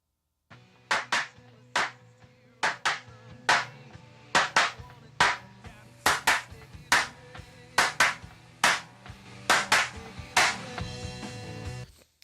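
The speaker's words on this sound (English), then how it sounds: "we're going to distort our claps here for a minute" Distorted hand clap samples in a mix, sharp loud claps repeating in a steady groove over a low sustained tone, with no voices.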